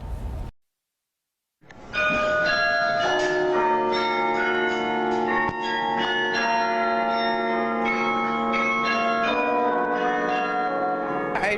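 Carillon bells at Yale ring out in a sustained, overlapping melody after a short silence, rich tones lingering and layering over one another.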